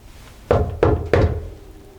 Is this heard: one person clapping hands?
no